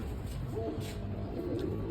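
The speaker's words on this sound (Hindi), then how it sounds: "हर तरह के यहाँ पे आपको कबूतर देखने को मिलेंगे।" Pigeons kept at a home coo softly in low, throaty, repeated calls, faint and somewhat distant, over a steady background hum.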